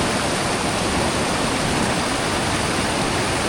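River water along a backpacking route in Banff rushes in a dense, loud, unbroken hiss and roar, close by, with no voices over it.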